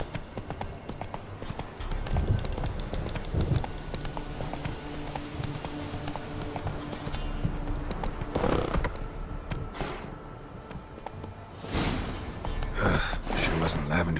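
Roach the horse gallops in the Witcher 3 video game, with rhythmic hoof clip-clops alongside snorts and a whinny amid game ambience, and a voice speaking over it at times.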